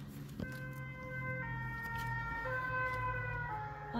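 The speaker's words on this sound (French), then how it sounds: "Ah, les pompiers, désolé, qui passent." A fire engine siren passes outside, its two-tone wail alternating steadily and sounding somewhat distant behind a constant low rumble of traffic.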